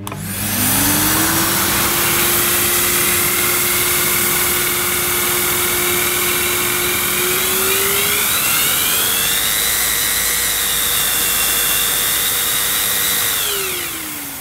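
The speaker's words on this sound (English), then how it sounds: "So if I switch the cleaner on now, we should have some movement on these blades." VonHaus Milo & Misty pet grooming vacuum running with its clipper attachment, suction driving the blades: a loud, steady motor whine that rises in pitch partway through as power increases, then winds down at the end.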